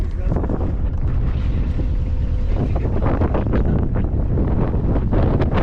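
Strong wind buffets the microphone outdoors during a year-end off-road drive, a loud continuous low roar with gusty surges throughout and muffled voices faintly beneath it.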